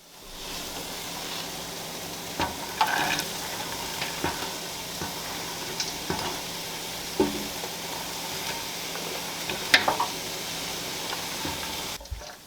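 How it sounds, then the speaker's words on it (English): Butter melts and vegetables sizzle in a soup pot, a steady close frying hiss with occasional soft clicks and taps from a utensil, with no talking. "I am going to melt a stick of butter here in my soup pot, to which we will then add the veggies."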